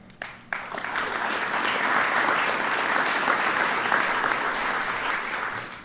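Sustained applause from an audience at a spring sports awards ceremony, a full round of steady clapping that begins after a brief pause and carries on without talk.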